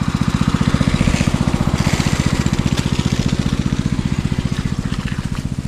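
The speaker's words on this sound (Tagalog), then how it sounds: "nag-grass cutter tayo dito" A grass cutter engine runs close and loud beside a fish pond, its rapid, even pulsing drone holding steady from start to finish with no talking.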